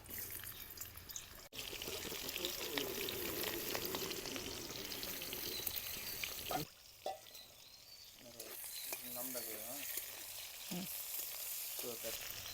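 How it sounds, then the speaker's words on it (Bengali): Chopped onion sizzles steadily in hot oil left from frying rohu fish, a continuous crackling fry broken by stirring scrapes, with brief pauses and some quiet background noise. "এখন কুচি করা রাখা পেঁয়াজটা দিয়ে দিলাম।"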